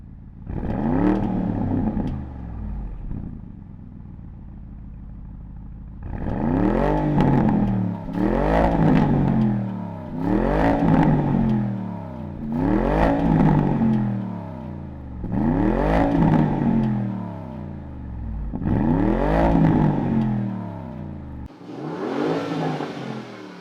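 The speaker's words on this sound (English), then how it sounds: "it's got a really nice and deep rumble to it without too many artificial pops and bangs" A Porsche Cayenne Coupe in Sport Plus mode starts up and settles into a deep idle, then gives about seven rev blips. Each is a loud, close, rising-and-falling roar, ending in a short whir.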